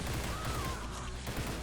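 Firebrand prototype burst shotgun firing incendiary rounds in Fallout 4, a dense, loud barrage of booming shots with crackling fire effects and no speech.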